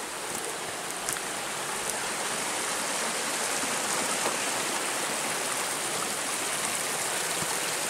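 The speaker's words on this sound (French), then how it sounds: "La cascade est toujours là." A waterfall at the end of a narrow passage pours steadily onto rocks, a dense, continuous roar of falling water that stays loud and even throughout with no voices.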